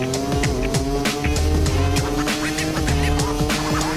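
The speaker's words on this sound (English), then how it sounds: "Lights out and we're racing in MotoGP here in Goiânia" MotoGP race motorcycles roar off the start line at Goiânia, a dense, loud pack of engines revving hard with overlapping rising and falling pitches as bikes accelerate past.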